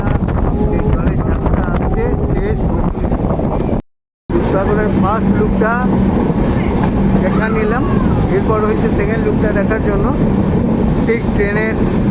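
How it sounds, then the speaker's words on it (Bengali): A train runs through a tunnel near Dudhsagar waterfall in Goa during heavy monsoon. A steady, loud rumble is heard with wind buffeting the microphone and a brief cut of silence partway through. "আবার ট্রেনটা এই মুহূর্তে টানেলের ভেতর দিয়ে যাচ্ছে"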